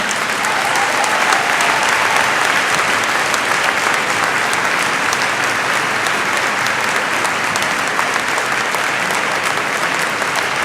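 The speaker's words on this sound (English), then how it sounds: "Einen Applaus." Conference audience at the re:publica 2014 welcome session breaks into loud, sustained applause, a dense, even wash of many hands clapping that holds steady for the full length with no pause.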